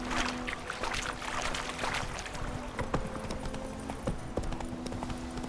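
Hooves of the horse Roach clip-clop at a quick running pace in The Witcher 3, a steady rhythmic patter of impacts over soft ambient game background, without speech.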